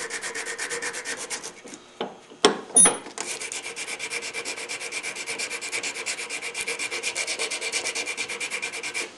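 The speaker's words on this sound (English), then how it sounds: "You can use a more aggressive rasp if you need to, and finish up with sandpaper. Just get in here and work the surfaces." Rasp and sandpaper working the surfaces of a curly maple spice box: steady rhythmic rubbing strokes, close and continuous, broken by a short pause and a couple of louder knocks before the scraping resumes.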